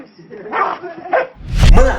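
A dog barks and yaps in a short, loud burst near the end, with a barnyard rooster and cat nearby and softer animal or vocal sounds just before it.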